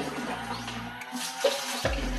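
Water runs from a repaired hand pump outdoors, a soft splashing flow under a low background hum, with a couple of brief knocks near the end.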